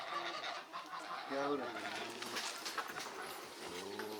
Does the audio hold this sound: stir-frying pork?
no